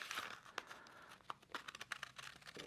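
Scissors cut a card along a dotted line, producing faint, quick crisp snips and papery crinkles in an irregular run up close.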